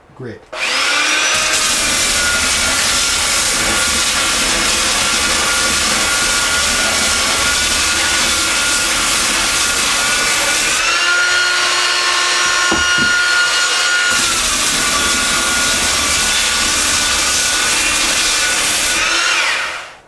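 A belt sander with a 175-grit belt grinds dried putty off 3/4-inch MDF, a loud, steady, rasping whine running nearly unbroken for about twenty seconds, with a brief change in tone partway through.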